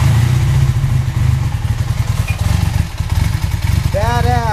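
A motorcycle engine runs close and loud with a steady, throbbing idle and some mechanical clatter, just after its CDI electronic ignition was repaired with a modern Bosch ignition system.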